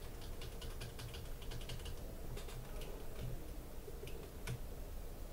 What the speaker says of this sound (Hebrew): ויש לי מקלדת חדשה.